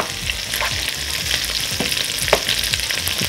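Meat and rice frying in a pan, a close, busy sizzle with repeated scraping and stirring knocks, no voices.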